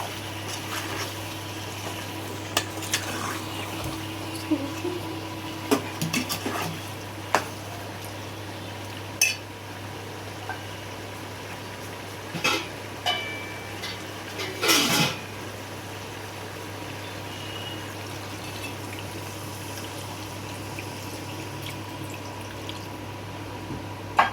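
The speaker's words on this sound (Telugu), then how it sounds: "కారం వేసుకొని ఇది మంచిగా ఈ చికెన్లో కలిసే వరకు కలుపుకొని దీనిలోకి తగినన్ని వాటర్ వేసుకొని" Chili powder is stirred into a chicken curry and water is then added. Scattered clinks and scrapes of a spoon against a pot come through over a steady background hum, with one longer burst of pouring and splashing near the middle and no voices.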